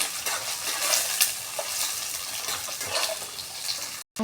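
Garlic, ginger and spices frying for a chicken dish in a hot pan, with steady close sizzling and a few stirring scrapes throughout, alone without talk, cutting off abruptly near the end.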